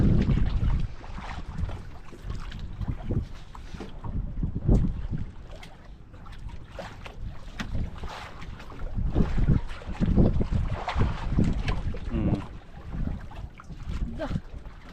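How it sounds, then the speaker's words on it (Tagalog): Big sea waves slosh and slap against a small fishing boat out on open water, with steady wind buffeting the microphone and surges of water swelling and fading, while people talk aboard. "Naglakihan na yung alon"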